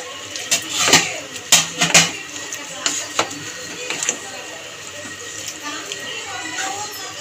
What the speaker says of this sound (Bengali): ডালটা দিয়ে ভালো করে নেড়ে চেড়ে মিশিয়ে দিয়েছি।